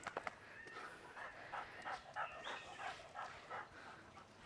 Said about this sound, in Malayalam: ഈ ഡോഗിന്റെ ബ്രീത്തിങ്ങിന് സൗണ്ട് കിട്ടുന്നില്ലേ